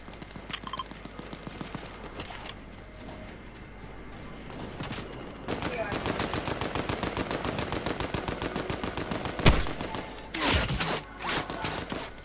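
Sustained automatic gunfire from a minigun and other weapons in a Fortnite zero-build squads match, dense rapid bursts running throughout with a few louder nearby blasts and thumps near the end, no talk.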